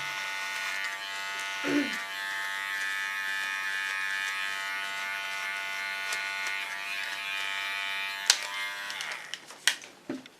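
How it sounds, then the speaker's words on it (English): During a very short clipper haircut, a small electric hair clipper hums continuously and close. A brief voice sound interrupts early on, and clicks and handling knocks near the end break the steady buzz. "Take my small clipper and make it even sharper."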